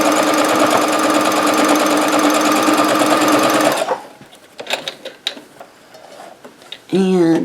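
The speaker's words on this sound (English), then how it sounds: "Okay, and we are sewing the last one." A sewing machine runs steadily at high speed while stitching a quilt block for a basic star sampler quilt, then stops; afterwards come close handling clicks and fabric rustles, and a brief voice speaks at the end.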